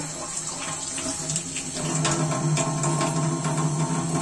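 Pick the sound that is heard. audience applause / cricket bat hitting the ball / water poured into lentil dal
water poured into lentil dal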